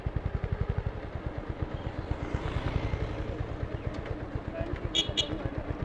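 A motorcycle rides along a panchayat road in Golaghat, its engine giving a fast, even low-pitched thumping throughout, with a couple of brief faint clicks near the end.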